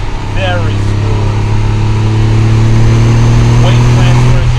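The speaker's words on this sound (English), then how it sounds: "Downshift to third here, very smooth." A 1991 Porsche 911 Carrera 2 Cabriolet engine drones steadily at close range while the car downshifts to third on a country road, with a rising and falling tone under continuous cabin rumble.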